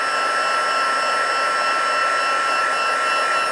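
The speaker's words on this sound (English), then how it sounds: "I'm going to grab my heat tool. One more quick little heat." A heat embossing tool blows hot air in a loud, steady, close whoosh with a high whine, running alone throughout without a break.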